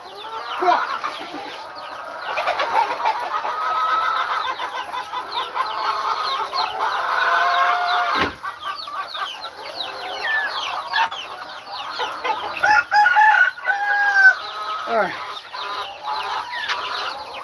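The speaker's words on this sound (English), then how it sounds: "Dang it, chicken, get out of here." Chickens cluck steadily and a rooster crows at an Aklan farm, a busy, close barnyard chorus running throughout with bursts of louder calls.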